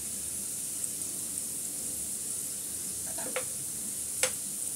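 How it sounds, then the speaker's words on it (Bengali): Crispy pitha made from packaged wheat flour fry in oil over medium-low heat, giving a continuous even hiss. Two or three brief clicks near the end come as the pieces are flipped, with no speech. "একটু উল্টিয়ে পাল্টিয়ে আমি পিঠেগুলো ভেজে নেব।"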